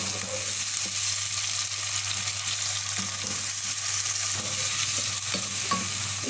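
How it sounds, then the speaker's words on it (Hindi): Tomatoes go into onions frying for mutton masala, giving a loud, continuous close-up sizzle with scattered stirring scrapes and a steady low hum, no voices. "अब इसमें डाल रही हूँ मैं 3 दरमियाने साइज़ के टमाटर"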